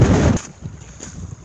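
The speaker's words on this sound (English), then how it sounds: "I'll keep this short because it's really windy." Loud wind on Bleaklow moorland buffeting the microphone in a brief heavy gust, then dropping to a lower steady rumble with a few smaller gusts.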